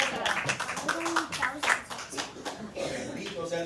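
A church congregation claps briefly after a prayer, scattered rhythmic hand claps at moderate loudness with talking and voices running over them.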